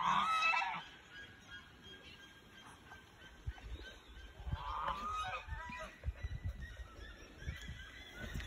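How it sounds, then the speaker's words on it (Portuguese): Geese honk loudly in a short burst, then more distant honking follows over faint rustling and outdoor background noise. "Meus gansos"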